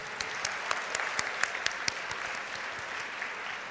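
Convocation audience in a large hall gives a steady round of applause, a dense wash of clapping with scattered crisp individual claps, moderately distant and even throughout.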